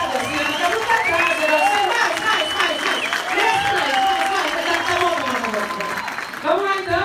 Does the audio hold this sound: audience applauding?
yes